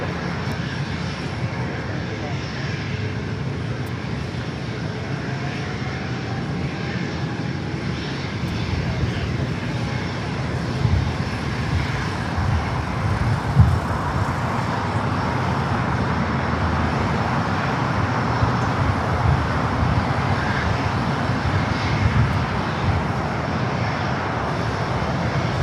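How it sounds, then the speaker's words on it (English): Air Canada Airbus A220-300 in retro livery taxiing at LAX toward Terminal 6, with a steady broad jet engine roar that holds throughout and builds slightly, and faint voices in the background. "That special livery, the retro Airbus A220-300 Air Canada, heading over here to Terminal 6."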